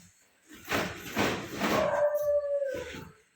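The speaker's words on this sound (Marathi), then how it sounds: "चला डॉन लय लागलाय भोकायला त्याला कुत्री जरी दिसली तरी ती भोकत बसते" A dog at a rural home lets out close, drawn-out howls mixed with barks and whimpers, loud and alone with no talk.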